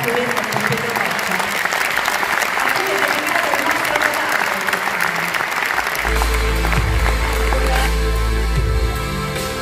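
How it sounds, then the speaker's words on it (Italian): Sustained applause from a film festival audience, a dense, steady clatter of many hands clapping throughout, with a low deep rumble joining in the second half. "voglio farvi subito un applauso per la bella Fiorenza con Pietro Boccia"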